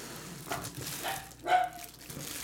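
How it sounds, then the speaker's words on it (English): A dog barks indoors, faint and somewhat distant, a few short yaps over a steady room hum. "What the hell is she barking at?"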